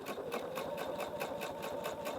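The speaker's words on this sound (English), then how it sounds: "I'll sew a little bit and then I'll show it to you" Sewing machine stitching piping onto a blouse, a close, steady rapid mechanical whir with an even rhythmic pulse throughout.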